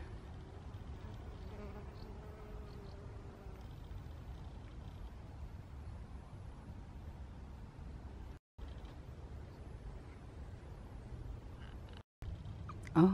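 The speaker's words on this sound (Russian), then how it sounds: "Ой, сколько тут пчелок." Steady insect buzzing from many bees on speedwell flowers in a garden, a continuous droning hum with no voices, briefly cutting out twice near the end.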